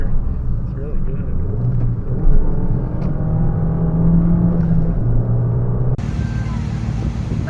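Inside a 2025 Mazda CX-30 small SUV taking turns, a steady low engine and road rumble runs throughout, with a brief rising whine of acceleration and a person talking over it.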